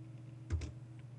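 Computer keyboard typing, just a couple of quick soft key clicks close by over a steady low hum.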